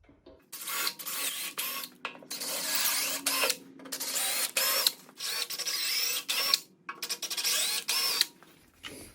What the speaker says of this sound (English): I run an 8mm tap on these holes here.